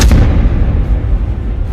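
Naval gunfire from the Dutch warship HRMS Evertsen striking the Indonesian boat RI Macan Tutul, a heavy booming blast with a sharp onset followed by a deep, rumbling roar that lingers loudly.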